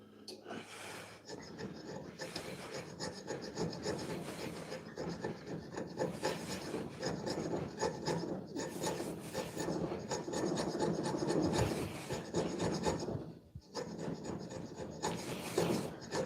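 A steel dagger is worked with a file and a scraper in long, rasping strokes that repeat in a steady rhythm, close and fairly loud, with brief pauses between passes and occasional breathing.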